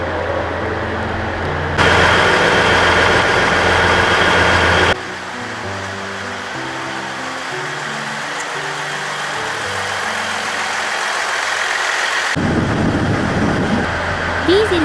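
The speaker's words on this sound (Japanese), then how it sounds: "ディーゼルの音がやかましいですね。" A diesel railcar on the rapid Aga service of the Ban'etsu West Line idles loudly at a platform in Niigata Station, a steady rumbling drone under broad hissing noise throughout.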